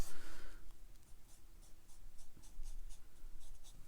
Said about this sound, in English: Just tapping the brush, wiggling it back and forth.